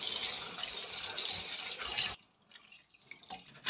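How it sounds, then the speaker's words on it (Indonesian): Tap water runs steadily onto young papaya being washed in a kitchen sink, then stops abruptly, leaving a few faint drips and handling sounds. "saya cuci bersih ya."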